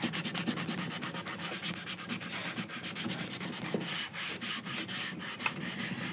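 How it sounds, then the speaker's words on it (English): Paint being rubbed off wood along the grain, a close, continuous rasping scrub in fast repeated back-and-forth strokes, steady and moderately loud with no talking. "make sure you rub off in the direction of the grain"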